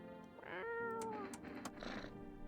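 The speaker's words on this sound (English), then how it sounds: "You decided to pet the cat." A cat meows in the video game No, I'm Not Human: a few drawn-out, fairly close meows with rising and falling pitch, mixed with faint clicks and soft background sounds.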